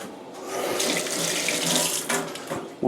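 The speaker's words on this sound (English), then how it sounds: "Wash my hands a little bit." Hands being washed under a running tap during a home brewing day, a steady close hiss and splash of flowing water with shifting spatter as the hands move through the stream.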